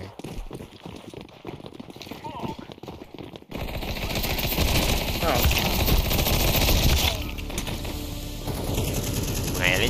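Light machine gun fire in Counter-Strike 2 runs as dense, sustained automatic bursts through most of the stretch, loud and close, with game ambience underneath and players chatting over it.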